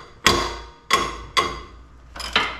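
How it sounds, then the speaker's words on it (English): A breaker bar and ratchet working a 17 mm control arm bolt loose on a Nissan GT-R front suspension, heard as four sharp metallic clacks spaced about half a second apart, close and fairly loud with no talking. "I feel like there's something soothing about a ratchet."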